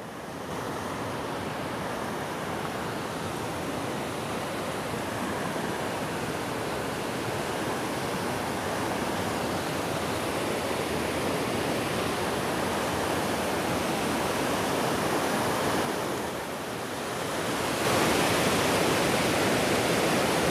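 Water diverted from the São Francisco rushes through the Salgado river in Missão Velha, in the sertão, a loud, steady broadband roar with some wind noise and no talking.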